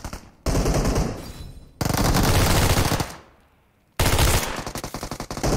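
Loud, close bursts of automatic gunfire from the PUBG Mobile game, three sustained volleys of rapid shots separated by brief pauses, with no talk over them.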